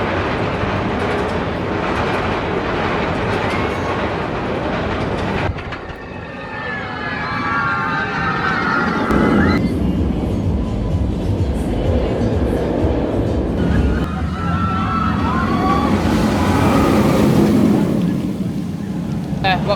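Shambala roller coaster at PortAventura: a loud rushing roar of the train along the track swells and fades over the ride, with wind noise and indistinct rider voices mixed in.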